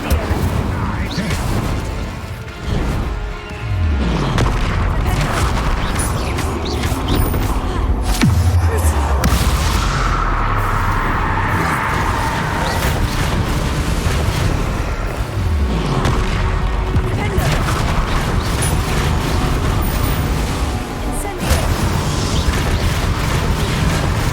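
Bomb blasts in the game Hogwarts Legacy, several heavy booms and bursts rising out of a dense, continuous game soundtrack, with low thuds around three and eight seconds.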